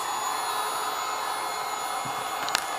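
A steady, droning whine of an electric air pump inflating air mattresses at a campsite, running continuously close by, with a couple of faint clicks near the end.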